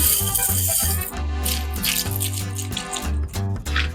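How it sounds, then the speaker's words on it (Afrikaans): Dry macaroni is tipped into a pot holding about two cups of water, giving a few seconds of close, rattling, clattering pasta with splashy water sounds and no talking. "En dan gooi ek my macaroni in."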